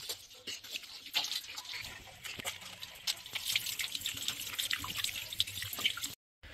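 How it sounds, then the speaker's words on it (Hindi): Water from a sink tap runs steadily while hands are washed before a meal, a continuous close splashing and trickling with small drips, no talking. "खाना है तो मैं पहले अच्छे से हैंड वॉश कर लेती हूँ"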